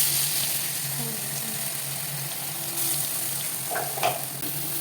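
Crushed onion and chili, ground in a mixer, are tossed into hot oil with mustard seeds and sizzle steadily at moderate volume, with a faint clink near the end.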